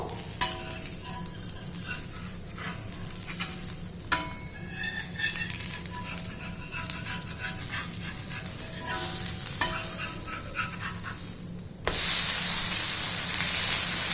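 A dosa cooks in a little sesame oil on a pan with a steady close sizzle and crackle, broken by a few scraping and clinking touches, and a louder hiss burst near the end, with no talk.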